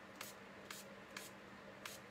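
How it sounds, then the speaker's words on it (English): Spray bottle misting onto a handmade card at a stamping craft table, four short faint hissing bursts spaced unevenly apart. "I just like doing lots of spraying of this because I love the effect that it gives"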